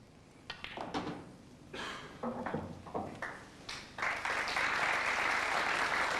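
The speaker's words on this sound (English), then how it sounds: "Nice round of applause." Audience applause at a pool championship final, beginning with scattered claps and knocks, then swelling after a few seconds into full, steady clapping from the crowd.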